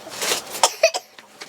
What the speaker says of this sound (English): That is a silly fake cough.